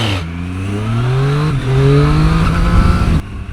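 A Triumph Street Triple RX or Yamaha MT-09 SP triple-cylinder motorcycle engine revving hard while stationary with no limiter, loud and close, pitch climbing through two sustained rising revs.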